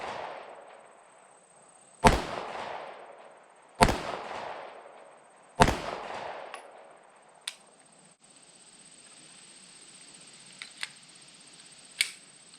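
Smith & Wesson EZ9 pistol fired outdoors: three loud, sharp shots about two seconds apart with ringing decay, followed by a few fainter, distant cracks and clicks.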